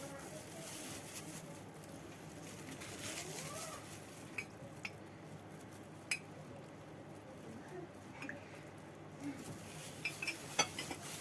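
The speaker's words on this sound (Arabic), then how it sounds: "وهقلب حضراتكم زي ما انتوا شايفين كده عشان السمنة تدخل جوه الكنافة كلها" Kunafa dough is worked by hand with ghee in a bowl: soft, quiet squishing and stirring, with occasional sharp clinks of a utensil against the dish.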